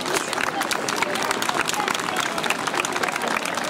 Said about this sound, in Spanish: Fuertes aplausos para el profesor.